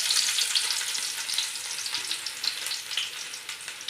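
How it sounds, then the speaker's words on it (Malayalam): Finely chopped ginger and garlic fry in hot sunflower oil and ghee for fried rice, a crisp high sizzle with fluttering pops and occasional stirring, close and continuous without speech. "നമുക്ക് അതിനകത്തേക്ക് ഇച്ചിരി ഇഞ്ചി വെളുത്തുള്ളി ചെറുതായിട്ട് കൊത്തി അരിഞ്ഞിട്ട് കൊടുക്കാം."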